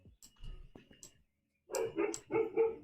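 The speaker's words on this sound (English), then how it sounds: "Dogs are barking." Dogs barking nearby in short, separate bursts, a couple of yips early and then a cluster of three or four louder barks, with a brief quiet gap between.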